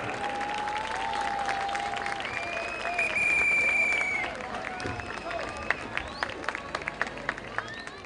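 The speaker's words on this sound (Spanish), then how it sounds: "Más fuerte el aplauso también para Arte Vida." Outdoor crowd applauding during a street parade in La Serena, Chile, with steady clapping, some whistles and cheering voices, sharp claps rising toward the end.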